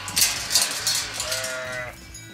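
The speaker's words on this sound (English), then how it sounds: "we've got 30 sheep at the moment" Farm animals on a permaculture homestead in Portugal give one bleating call midway through, close and fairly loud, over wind buffeting and low outdoor rumble.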